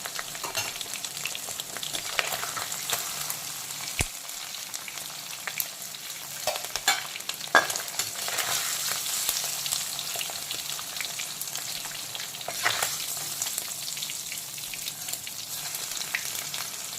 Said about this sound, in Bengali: এখন মোরলা মাছের উল্টো দিকটাকেও একইভাবে মিডিয়াম ফ্রাই করে নেব।